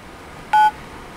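A single short phone dialing tone sounds from a phone app call, a clean, loud beep lasting a fraction of a second alone against faint background noise.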